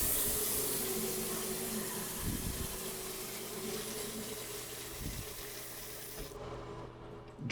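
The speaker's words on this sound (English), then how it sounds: "Drains a little slow." Water from a tap runs steadily into a half-bath sink and drains slowly, a continuous close rushing that cuts off near the end.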